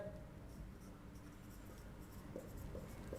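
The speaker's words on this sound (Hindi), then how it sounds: "सबसे पहले मैं लिखता हूं वेपर प्रेशर" Chalk or marker writing on a board during a chemistry lesson, faint scratchy strokes and soft taps in quick short bursts, heard close in a quiet room.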